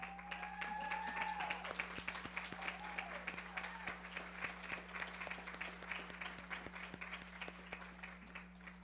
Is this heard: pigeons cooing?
no